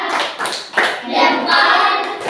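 A classroom group of primary school children doing a rhythmic thumbs-up clapping cheer: close, loud bursts of hand claps in quick rhythm, with children's voices mixed in.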